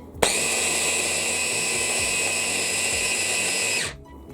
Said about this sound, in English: we're going to blend this up again until we get the texture of wet sand